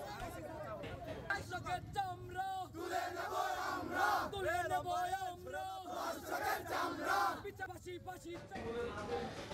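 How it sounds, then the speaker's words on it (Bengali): A crowd of local people protesting in front of a police station, many voices shouting and chanting together in loud, continuous rising and falling bursts. "এদিকে অভিযুক্ত হিটু শেখের কঠোর শাস্তির দাবিতে থানার সামনে বিক্ষোভ করেন এলাকাবাসী"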